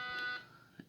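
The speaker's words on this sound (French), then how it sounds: "si c'est normal que ça fasse un bip comme ça" A Rhumart device, a used heated mattress on its first use, gives one sustained high electronic beep that cuts off, followed by a faint short tap, all at close range.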